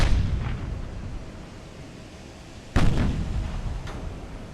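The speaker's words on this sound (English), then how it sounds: "Another ricochet." Naval shells strike and ricochet in the warship game Ultimate Admiral: Dreadnoughts, heard as two heavy booming impacts, each trailing off in a long rumbling decay, with the second impact louder.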